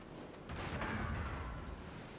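HE shells fire from a Tier 10 Conqueror battleship in World of Warships, a deep booming salvo rolling into a sustained low rumble, moderately loud with no talk.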